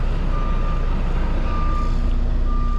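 A truck backs in for a delivery at a department store, its reversing alarm beeping in evenly spaced tones over a steady low engine rumble.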